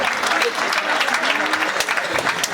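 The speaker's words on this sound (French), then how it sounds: "Applaudissez s'il vous plaît." An audience applauds guests being introduced at a school investiture ceremony, producing loud, dense, steady clapping throughout, with a voice faintly speaking underneath.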